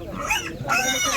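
Pigs grunting and squealing close by at a livestock market, a few overlapping calls in quick succession over a steady background.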